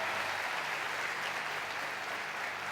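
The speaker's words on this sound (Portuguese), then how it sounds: "Você pode dizer aleluia e aplaudir o nome de Jesus?" Congregation at a Portuguese-language evangelical church service applauding in praise, a loud, dense, continuous burst of clapping filling the whole short stretch with no speech.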